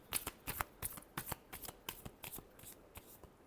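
A deck of tarot cards is shuffled close up, a quick run of soft riffling flicks and taps in an uneven rhythm, faint and alone with no talking.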